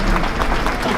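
Audience members at the 2018 Morgan State gala clap in a brief burst, dense, evenly textured applause from a sizeable room, loud and close.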